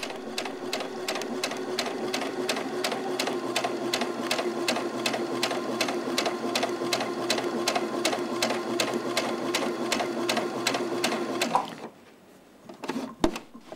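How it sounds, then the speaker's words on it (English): A sewing machine stitches steadily just inside the seam allowance around a curve, its regular rapid needle clatter going for about eleven seconds before stopping, followed by a few faint handling clicks. "I'm going to sew just inside the seam allowance, working slowly because I'm working around a curve"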